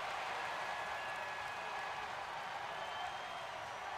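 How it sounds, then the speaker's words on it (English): Crowd at a playoff basketball game, on their feet and cheering late in the fourth quarter; a faint, steady wash of applause and crowd noise, with no clear voices. "The crowd on their feet."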